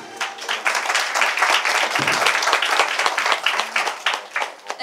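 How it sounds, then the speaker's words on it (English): Audience at a Miss Chinese World 2017 grand final press conference in Malaysia clapping for the delegates, brisk distinct handclaps forming loud, lively applause that continues steadily. "Let's give a round of applause to the beautiful delegates here"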